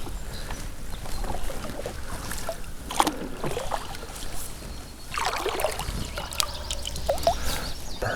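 A kayak moves on a river, with soft paddle splashes, trickling and dripping water and the hull shifting in steady, irregular bursts, with no talking.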